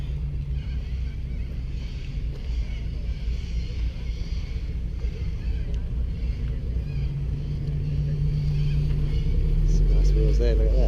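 A car drives past at a Cars and Coffee meet at Largs Bay, its steady low engine rumble building slightly louder toward the end, with outdoor wind and ambient noise throughout.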